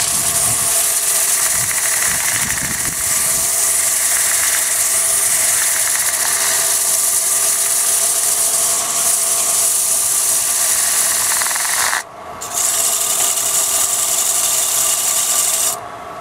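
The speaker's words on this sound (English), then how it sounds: "Let's get to sanding this thing." A steady, high rasping hiss of sandpaper against a spinning turned wooden bowl runs continuously over a lathe's hum, cutting out briefly near the end.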